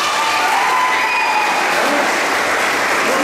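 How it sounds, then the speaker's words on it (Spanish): Audience applause at a talk on Hebrew biblical scriptures, a dense wash of clapping with some cheering, sustained and loud for the whole stretch. "Venga, un aplauso."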